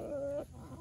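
A rooster guarding a small hen makes a short, sharp cluck, followed by soft farmyard background, close by and brief.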